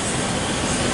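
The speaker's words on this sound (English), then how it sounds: "B30 now departing platform number 2 on a Mount Victoria service." Sydney suburban train B30 pulling out of platform 2 at Parramatta on a Mount Victoria service, a steady loud rumble of wheels and rolling stock filling the whole second with no voices.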